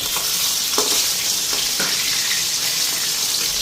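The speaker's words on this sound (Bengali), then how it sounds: "মাছ ভাজা হয়ে গেছে" Fish fries in a pan, a loud continuous sizzle with a few sharp crackles and clinks, plus running water in the background.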